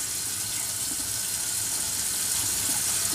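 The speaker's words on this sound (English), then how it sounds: "I'm rinsing the peel off, and then I am getting more of the neutralizing water and just kind of dabbing that on my skin." Tap water running and splashing steadily while a chemical peel is rinsed off skin at a sink, a continuous bright hiss and patter close by with no voices.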